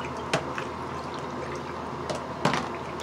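Water dumped out of a plastic bag holding aquarium fish, a steady splashing pour with a couple of louder sloshes, close and moderately quiet.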